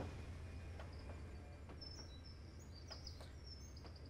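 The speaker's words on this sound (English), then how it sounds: "So you can hear birds chirping" Scattered bird chirps and short tweets ring out in a Trainz Simulator 3 logging scene at Badgers Pass, set over a steady low ambient rumble from the idling train; the calls are thin and intermittent, fairly faint, with no voices.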